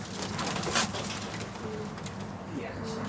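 Pigeons cooing among a loft flock, soft low coos under steady background noise and faint rustling, with a voice speaking nearby.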